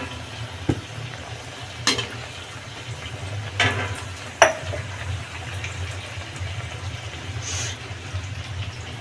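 Kachori deep-frying in hot oil, a steady close sizzle and bubbling with a few clinks and scrapes of a utensil stirring in the pan, no talking.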